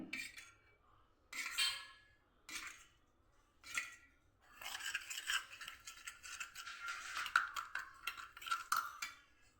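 A spoon stirring ghee and rice flour into a paste in a bowl, starting with a few separate clinking strokes and then turning into quick, continuous scraping and clattering, close and fairly faint.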